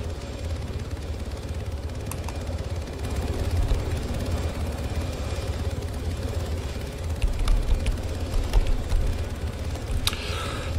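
Helicopter in the game Arma 3, a continuous heavy rotor thrum and engine drone, close and steady with swells in loudness and a few sharp clicks, no talk.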